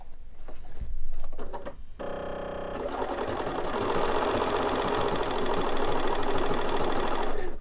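A Bernina 435 sewing machine stitches out a flower embroidery pattern, starting with a brief beep and then settling into a fast, steady mechanical whirring and clatter that holds close and fairly loud.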